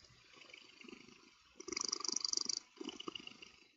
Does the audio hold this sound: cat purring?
yes